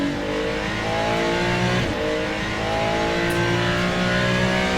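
Ferrari 296 LMGT3 race car in Le Mans Ultimate on the Fuji Speedway circuit, its engine droning steadily loud throughout with shifting rev tones and a brief gear-change dip, no talk over it.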